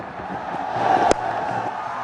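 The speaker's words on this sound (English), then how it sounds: "any run so far being scored by the Bangladeshi batsmen have been greeted with a big cheer" A cricket crowd at a Bangladesh versus South Africa one-day international swells into a broad cheer for a run, rising and then holding steady at a moderate, distant level.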